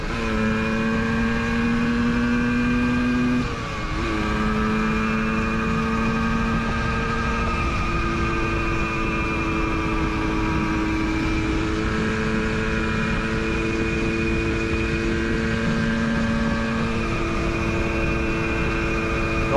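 A Manuracing DTMX kit RC car runs at speed with a loud, steady high-pitched motor whine, holding a constant tone with a brief dip early on.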